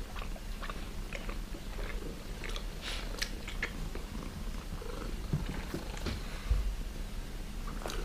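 A cat purring close up, a soft continuous low rumble running throughout with scattered small clicks and rustles over it.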